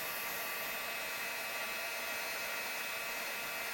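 A heat tool blows steadily while melting embossing powder onto cardstock, a constant loud hissing whoosh of hot air throughout, with no voices.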